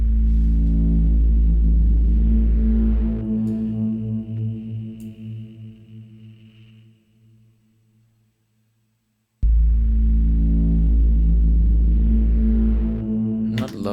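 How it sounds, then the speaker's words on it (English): Mysterious wailing synthesizer tone with a low droning bass and layered sustained harmonics, fading gradually to near silence before swelling back in loud and alone. "it's kind of like a little bit of a mysterious type wailing sound"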